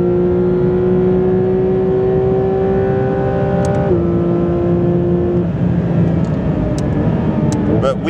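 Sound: McLaren 750S supercar accelerating on a race track

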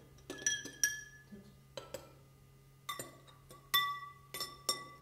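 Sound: stirring indicator solutions in glass containers

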